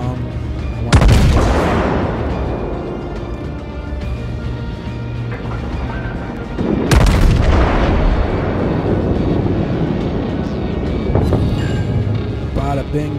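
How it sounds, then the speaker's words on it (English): Battleship cannons fire in World of Warships, two heavy booming salvos about six seconds apart, each with a sharp blast that rolls off into long rumbling echoes, loud and close, under dense game noise. "Entire fleet is firing on this one ship."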